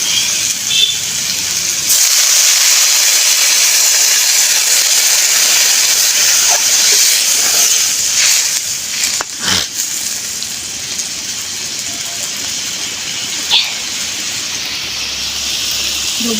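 Water poured into a hot pan of cabbage being cooked for a gourd-greens chachchari sends up a loud, steady sizzling hiss. It starts abruptly and holds for many seconds, with a brief sharper burst midway.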